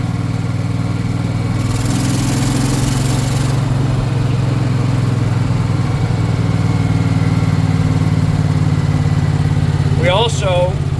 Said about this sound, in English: I've got the governor set to low RPMs because the engine's still being broken in.